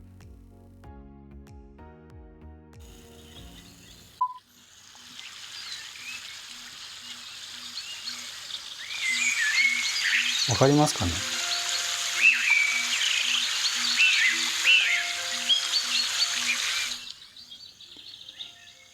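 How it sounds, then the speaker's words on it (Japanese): Timer-end alert on a Huawei Watch GT Runner smartwatch: a soft recorded babbling stream with chirping birdsong swells in for several seconds and then stops, after a short stretch of quieter tones at the start. "小川のせせらぎの音と、 そして鳥の鳴く声ですね"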